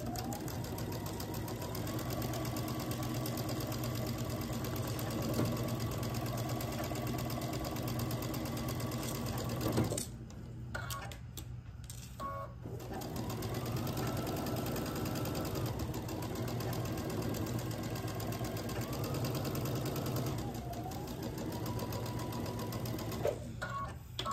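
A sewing machine stitches quilt block seams, a steady close mechanical whir running almost nonstop with brief pauses and a short stop near the middle.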